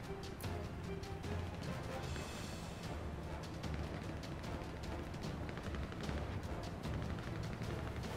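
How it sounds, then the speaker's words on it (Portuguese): Rapid bursts of gunfire in GTA V roleplay, sharp repeated cracks scattered across the stretch over a dense, rumbling background of game ambience. "Tem gente atirando"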